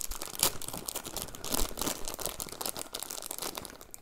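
Plastic bags of Playmobil fireman toy accessories (set 4795) crinkle and tear open in steady, close rustling bursts lasting several seconds, with no talking.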